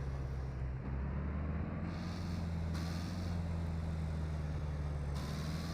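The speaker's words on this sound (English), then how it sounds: "Got a nice fast car. The risk is that you're gonna make a lot of noise" The loud engine of a fast car in the survival video game SCUM drones steadily at close range, a continuous low rumble that carries on without a break.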